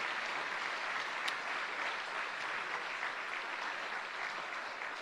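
Audience applause at a Christmas concert, a steady, dense clapping from a full hall that holds evenly throughout without any talk.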